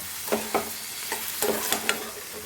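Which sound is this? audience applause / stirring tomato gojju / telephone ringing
stirring tomato gojju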